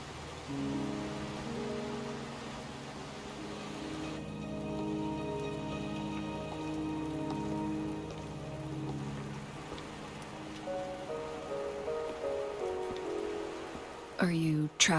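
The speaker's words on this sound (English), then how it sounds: "Are you trapped here by the rain?" Rain patters steadily in a Wuthering Waves game scene, a soft continuous hiss under tonal music, with a brief sharper sound at the very end.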